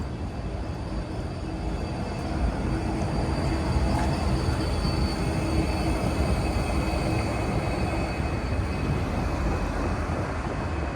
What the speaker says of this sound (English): Here's my tram.